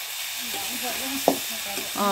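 Local village chicken fries in a pan with a steady close sizzle while a utensil scrapes and stirs it, with one sharp clatter and a few short voiced sounds in the background.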